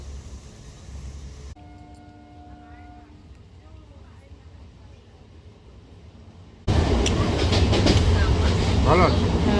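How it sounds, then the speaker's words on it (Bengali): A local train rumbles loudly on the tracks in the final seconds, following a quieter stretch of platform ambience with a brief tone and faint voices. "আপাতত আমরা অপেক্ষা করছি লোকাল ট্রেন আসার।"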